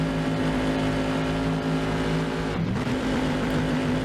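A Trans Am race car launching from a standing start at Laguna Seca in a racing video game, engine roaring loud and steady, with a brief dip at a gear shift before the revs climb again.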